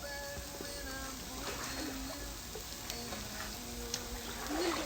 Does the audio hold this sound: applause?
no